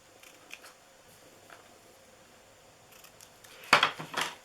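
Scissors trim gift ribbon in a couple of quick crisp snips near the end, after a quiet stretch of faint handling rustles, with no talking.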